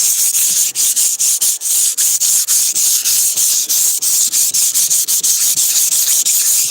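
Old, cheap car paint with peeling clear coat is sanded by hand in quick, steady back-and-forth strokes, a loud, close, hissing scrape with brief gaps between passes.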